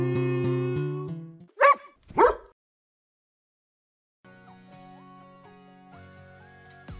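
A couple of short, sharp dog barks ring out alone between stretches of bright toy-like music, clear and fairly close.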